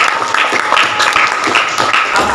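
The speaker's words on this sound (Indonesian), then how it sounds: "beri aplaus dulu" Applause from a group in a classroom or lecture setting at a Christian religious education event, a dense steady wash of many hands clapping throughout, fairly loud and continuous with no break.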